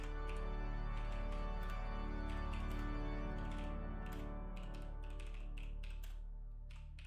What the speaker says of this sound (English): Of a keyboard.